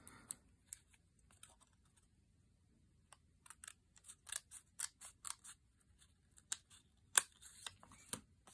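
Scissors snip through paper card, a faint isolated cut early on, then a run of crisp, close snips and clicks in an uneven rhythm after a quiet pause, with no talking.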